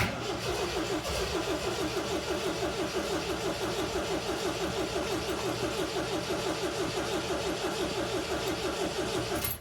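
A Bumblebee-themed car engine cranks continuously with a fast, even starter rhythm, loud and close, failing to catch for several seconds after a brief opening burst.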